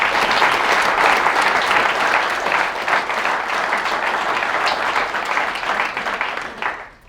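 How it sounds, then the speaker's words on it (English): Audience applause at a speaking event, a dense, steady round of clapping from a room full of people that holds for several seconds before quickly fading out. "a massive round of applause"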